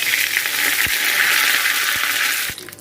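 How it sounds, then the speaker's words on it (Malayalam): A sprig of curry leaves hits hot oil with popped mustard seeds, a loud, close, rushing sizzle dotted with a few crackles that cuts off sharply near the end. "കടുക് പൊട്ടിക്കഴിഞ്ഞ് ഇതിലേക്ക് ഒരു തണ്ട് കറിവേപ്പിലയും കൂടി ചേർത്ത് കൊടുക്കുന്നുണ്ട്"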